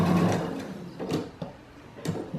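A sewing machine stitches fabric along a quarter-inch seam in a few short, separate bursts of mechanical whirring with brief pauses between them, heard close and fairly quiet.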